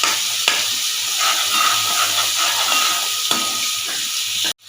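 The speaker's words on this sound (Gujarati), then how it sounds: "અને જે આપણે મરચું ખાંડેલું એ એકદમ સરસ મિક્સ કરી અને આપણે તેલમાં ઉમેરી દઈશું।" Crushed chili frying in hot oil for a Kathiawadi fenugreek dish, a loud continuous hissing sizzle with occasional spoon strokes as it is mixed, cutting off abruptly at the end.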